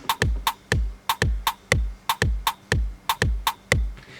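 FL Studio drum beat in a reggaeton afro style, with punchy booming kicks and sharp rimshot clicks in a syncopated repeating groove, loud and alone.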